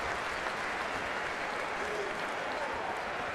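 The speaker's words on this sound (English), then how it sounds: "Batts gets a standing ovation, a well-deserved standing O from the crowd here at the dunk" Basketball crowd giving a standing ovation, a steady loud roar of applause and cheering filling the arena throughout without a break.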